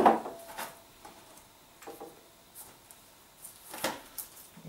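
A serrated knife sawing the top off a pineapple, heard as a series of short, soft rasping strokes spaced irregularly, close and fairly quiet with no talk over them.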